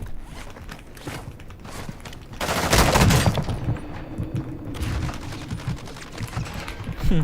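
A rapid burst of automatic gunfire erupts mid-way in the Warzone 2 video game, flanked by quieter clicks, shuffling movement and equipment rattles, with no voices.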